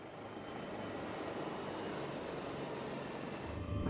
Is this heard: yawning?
no